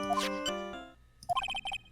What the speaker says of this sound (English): What kind of ringtone is that?